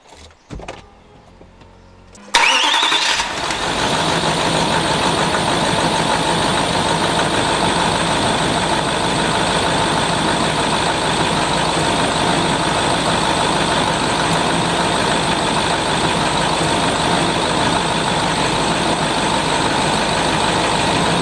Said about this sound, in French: on peut aller démarrer le véhicule